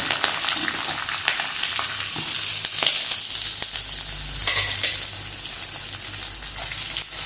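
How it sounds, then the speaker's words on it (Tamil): Chopped onions fry steadily in hot oil with green chilies for a jackfruit seed stir-fry, with a loud, continuous sizzle and occasional stirring scrapes. "அப்புறமா வெங்காயம் நறுக்கினதை அதில் கொட்டணும்"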